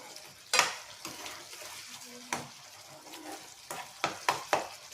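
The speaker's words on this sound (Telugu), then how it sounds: "మొత్తం ఒకసారి బాగా కలిపి పెట్టుకోవాలి" Chicken curry masala being stirred in a pan, with repeated scraping strokes of a spoon and light clatters against the metal over a soft sizzle, the stirring quickening toward the end.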